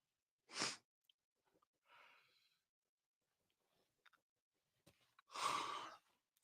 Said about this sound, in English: Me yawning with my big ass mouth open.